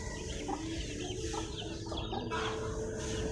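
A chicken clucks in short bursts close by, with a steady low background hum beneath the calls and no voices over it.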